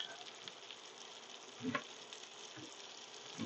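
Apples sautéing in bacon fat in a skillet give off a soft, steady sizzle, close by and fairly quiet, with a few faint clicks and bumps from the pan.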